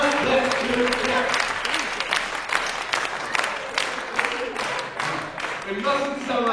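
A group claps a gospel shout rhythm together, dense and fast like rapid applause, with voices calling out over the claps.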